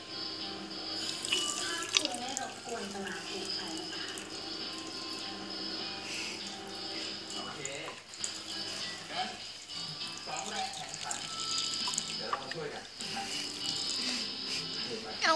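A tap runs steadily into a sink while a cat drinks from the stream, the water noise constant and moderately quiet with faint rattling, no clear speech.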